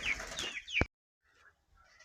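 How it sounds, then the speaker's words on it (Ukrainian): Bantam rooster crowing outdoors on a frosty village morning, a single loud nearby crow with a sharp rising call ending abruptly, followed by faint distant bird sounds. "Думаю, де це той бентамчик виспівує?"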